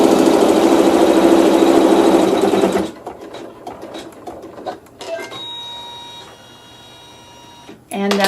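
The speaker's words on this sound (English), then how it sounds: "Alright, we're sewing the pleat down, still using the thread A in the needle end in the bobbin." Sewing machine stitching down a fabric pleat, thread A in both needle and bobbin: loud, steady mechanical whirring for about three seconds, then it stops, leaving quieter handling noises and a brief burst of stitching again at the end.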